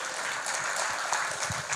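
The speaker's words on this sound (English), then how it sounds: "Let's give Kevin applause." A live audience at a Los Angeles Public Library event gives Kevin a steady wash of applause, moderately distant and continuous, with no voices rising above it.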